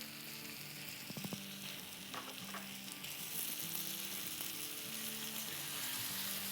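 Tawa chicken fries in butter on a griddle with a steady close sizzle, a few metallic clinks and stirring scrapes early on, and no talk.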